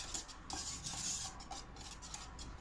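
Hot semolina cake mixture for basbousa stirred so the butter melts, a soft continuous scraping and rubbing of spoon against the bowl, close up and without talk.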